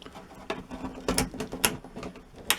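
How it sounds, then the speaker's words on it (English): A wood chisel pares small bits of wood from a drawer rail during a repair. It gives a close series of short scraping, clicking strokes in an uneven rhythm. "I'm going to take a wood chisel."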